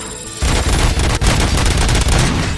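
Loud, dense gunfire in the RoboCop video game on PS5, a sustained rapid burst of shots starting abruptly after a brief quiet moment and running continuously with one short break.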